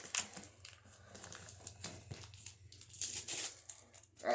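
Packing tape is torn and crinkled off a package by hand without scissors, in quiet, irregular bursts of ripping and rustling close by.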